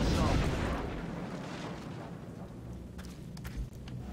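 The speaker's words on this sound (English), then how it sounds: "We can now use our shredder rocket in order to finish it off instead of using the fire rocket" In the video game XCOM, a shredder rocket launches and explodes with a heavy, rumbling boom that fades into a long, noisy decay, loud and close.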